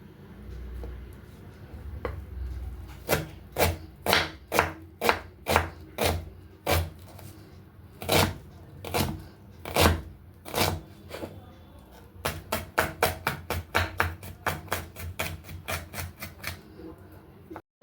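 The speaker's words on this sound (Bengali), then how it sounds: "তাই আমি সরু সরু করে পেঁয়াজটাও কাজলের মতোই কেটে নিচ্ছি" A knife slices an onion thinly on a board in quick, sharp chops. The chops come in two bursts of regular strokes with a short pause between them, close and crisp.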